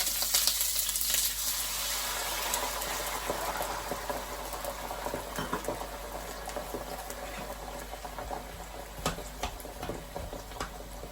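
Wine pours into a hot pan of softening onions and garlic, setting off a broad, steady sizzle that is loudest at first, then settles into a gentle bubbling hiss with a few small pops, and no one speaks.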